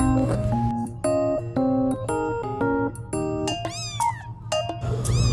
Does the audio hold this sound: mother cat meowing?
yes